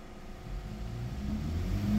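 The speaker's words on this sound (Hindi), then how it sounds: "दोबारा चेक किया हम लोगों ने रेस दे गाड़ी को" Honda City car engine revved repeatedly while parked for an accelerator check, a low rumble swelling steadily in loudness and pitch over two seconds, close by with no talk.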